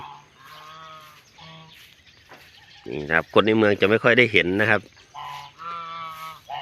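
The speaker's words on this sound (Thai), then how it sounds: "นี่มาดูห่านสวยๆนะครับ" Someone speaks while a burst of loud, nasal goose honks rings out nearby, several calls in quick succession before his talking resumes.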